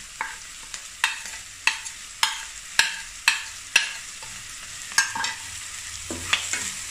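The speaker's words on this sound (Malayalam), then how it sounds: "വഴണ്ട് വരുന്നത് വരെ ഇളക്കി കൊടുക്കുക" Onions being stirred as they fry in a pan for a fish puffs filling, a steady sizzle cut by about a dozen sharp, close scraping strokes of the spoon at an uneven rhythm, with no talking.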